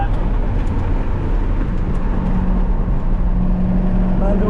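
Nissan 350Z driving a hot lap on a race track, heard from inside as a loud steady engine and road roar throughout, with voices partly under it.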